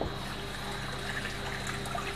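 A filter pump on a koi pond pushing water back into the pond, a steady rushing and trickling flow with a low constant hum beneath, heard close and unbroken.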